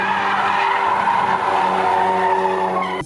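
An all-wheel drive car such as a Focus RS in drift mode slides, its tires skidding in a loud, continuous squeal with a steady engine drone beneath, holding unbroken for about three seconds before cutting off.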